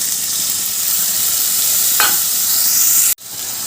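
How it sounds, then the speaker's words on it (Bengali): Water used to rinse a grinding stone, poured onto frying pointed gourd in a pan, giving a loud close sizzle with stirring scrapes that cuts off abruptly near the end, no talk. "সেই শিল ধোয়া জলটাই দিয়ে দিলাম"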